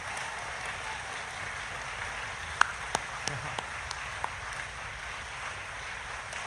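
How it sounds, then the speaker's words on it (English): Steady applause from the crowd at a DeSantis presidential campaign rally in Manchester, New Hampshire. It forms a continuous, hissing wash with a few sharp claps poking through around the middle. "So give her a round of applause."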